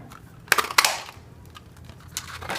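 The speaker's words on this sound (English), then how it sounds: "to punch out this little window here" A hand paper punch clicks and crunches twice through the card stock of a small box, cutting out a window, with softer handling rustles between the two sharp punches.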